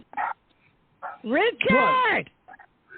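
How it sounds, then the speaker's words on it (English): A dog barks and yelps in a home, several short barks followed by a long drawn-out whining howl, close and fairly loud, with brief bits of voice in the gaps. "Your dog is barking."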